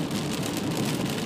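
Steady rain falling hard, a dense even patter with no pauses and no voices, heard near Lake Mills.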